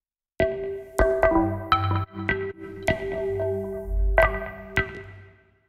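Synth with the Portal plugin's wet control turned fully up: bright plucked tones ring out with dense overlapping delay tails and smeared granular echoes, several stabs layered into a thick, sustained wash that fades at the end.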